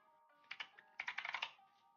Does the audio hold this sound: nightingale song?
no